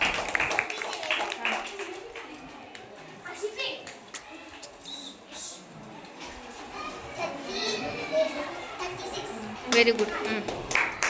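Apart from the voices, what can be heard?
children clapping hands in a classroom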